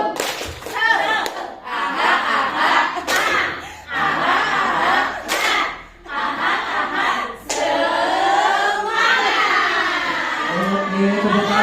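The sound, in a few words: group rhythmic clapping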